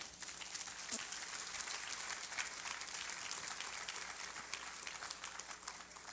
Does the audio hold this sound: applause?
yes